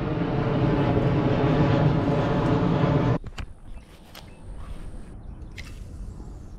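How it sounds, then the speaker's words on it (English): A fixed-wing airplane near a commercial airport rumbles loudly overhead as a broad steady roar for about three seconds, then cuts off abruptly, leaving quiet outdoor ambience with a few faint clicks. "There will be planes coming over."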